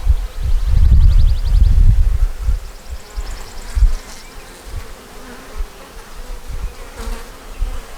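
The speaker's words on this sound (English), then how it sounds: "It's got some drones and some bees." A big, calm honey bee swarm of workers and drones drones on in a dense, continuous buzz close to the microphone, swelling loudest early on and then settling to a steadier hum.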